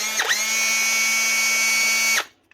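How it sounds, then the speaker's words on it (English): A repaired Hilti SFC 22A cordless drill with new brushes spins up with a brief dip, holds a steady high whine with a low hum beneath, and then cuts off abruptly into near silence. "One Hulty drill. SFC 22A. Fixed up again and running."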